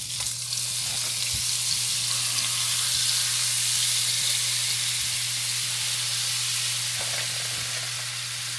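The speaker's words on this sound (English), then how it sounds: "I have some olive oil in the pan. It's already hot. And I'm going to add the butter." Butter melts and sizzles in already-hot olive oil in a pan as the base for a Newburg sauce with flounder and crab, a steady close frying hiss with no breaks.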